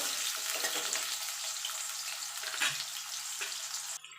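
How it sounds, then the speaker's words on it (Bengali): Potatoes frying in oil in a pan make a dense, continuous close sizzle with faint stirring scrapes, easing off just before the end. "আলুটাকে একটু ভাজা করে নেব।"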